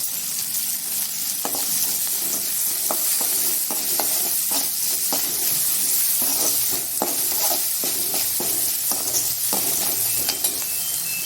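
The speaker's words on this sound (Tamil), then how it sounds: "வெங்காயம் அந்த கோல்டன் கலர் வர நல்லா வதக்கி எடுத்துக்கலாம்" Onions sizzle steadily in a hot pan, a continuous frying hiss broken by scattered clinks and scrapes as they are stirred.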